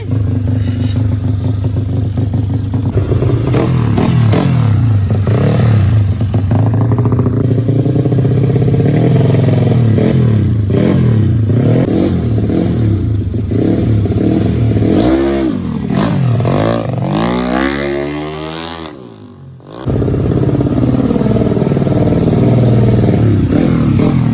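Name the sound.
modified scooter motorcycle engine revving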